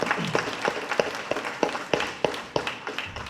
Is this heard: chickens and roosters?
no